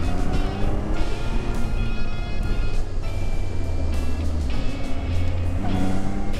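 A steady, loud Zontes 703F Adventure motorcycle engine roar with rising and falling revs, continuous throughout with no talking.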